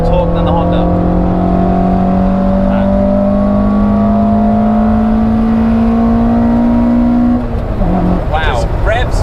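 A Toyota AW11 MR2's 4A-GE engine climbs steadily in pitch, revving higher and higher for several seconds before dropping off sharply as it shifts.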